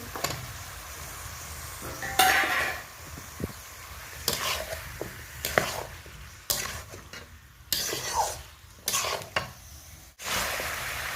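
Chicken being stir-fried in a pan with spices, bay leaf, chili and whole garlic cloves: a steady sizzle broken by repeated scraping strokes of a spatula against the pan, with no one talking.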